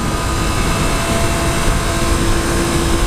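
A 2014 Triumph Street Triple R with its inline-three engine roars steadily at low revs during a ride, a loud, continuous drone mixed with wind rush and no talking.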